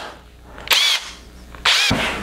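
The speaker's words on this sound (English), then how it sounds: "I'm going to chuck that into my drill" A corded power drill spins up twice, each time driving a nail with its head clipped off that is chucked in as a makeshift bit for a small wooden toy toolbox. The two loud whirring bursts each last about a second, with a quiet pause between.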